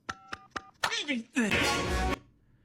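Three quick, evenly spaced telephone keypad tones beep, followed by a short burst of loud, distorted voice sounds.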